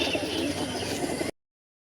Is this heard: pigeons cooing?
yes